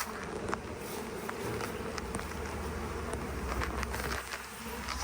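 A dense swarm of honey bees drones around the hive entrance, a continuous close buzzing with occasional louder passes of single bees.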